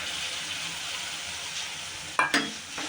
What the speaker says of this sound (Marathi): कांदा लाल झाला आहे त्यामध्ये थोडी टोमॅटो प्युरी टाकून घेऊ